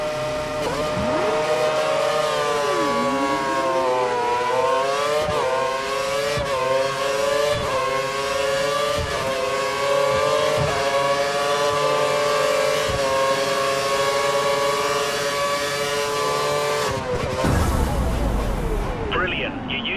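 Race car engines in the F1 2013 video game scream continuously while overtaking, pitch rising and falling through gear changes, loud and close, with a sharp drop near the end.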